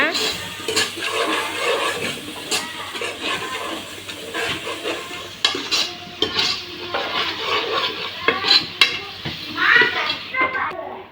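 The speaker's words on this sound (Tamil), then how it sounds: "நல்லா வதக்கிக்கிங்க" Spiced mutton gravy is stirred and sautéed in a pan, with a steady sizzle under frequent scrapes and clinks of a spoon, while voices, including a child's, chatter nearby.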